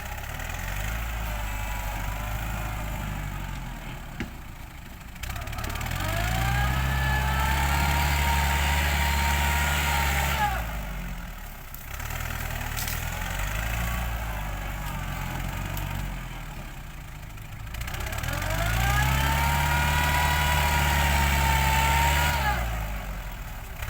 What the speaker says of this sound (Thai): ตอนนี้จวดรถไถไปก่อน ดันดินไปก่อน